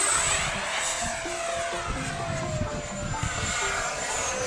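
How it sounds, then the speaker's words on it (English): An FMS F-16 64mm electric RC jet flies with a steady, high whining ducted-fan hiss that holds throughout, moderately distant and with no voices. "this is actually very agile and doesn't feel like I'm flying a 64mm jet"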